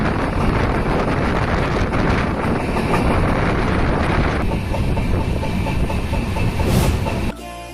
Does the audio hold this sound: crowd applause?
no